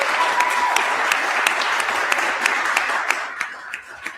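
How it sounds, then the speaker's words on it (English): A conference audience breaks into loud applause that stays steady for several seconds, dense clapping with sharp individual claps standing out, then thinning slightly near the end. "Round of applause for all their hard work."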